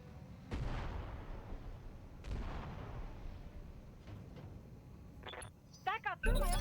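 Booming bomb blasts in the modded Roguetech BattleTech mech game: two heavy explosions with long rumbling decays a couple of seconds apart, followed by fainter thuds, chirpy electronic effects and a loud final burst, with talk faintly underneath.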